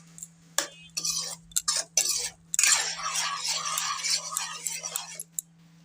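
Water is poured into a pan of fried potatoes for til posto. A few sharp utensil clinks come first, then a sustained hissing sizzle lasts several seconds before cutting off.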